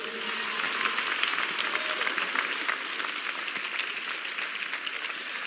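A concert audience applauds the Réunion band Lindigo at a Voix de l'Océan Indien show in 2010, giving steady, dense, sustained clapping with a faint crowd murmur underneath that continues evenly throughout.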